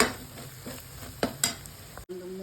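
Sambar powder sizzles with fried onions in a pan for a fish curry, with a spoon stirring and scraping through the steady frying hiss at close range.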